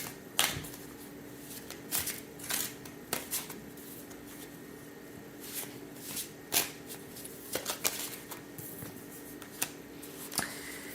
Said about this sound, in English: I'm pulling from the Love Bombs kindness cards for this.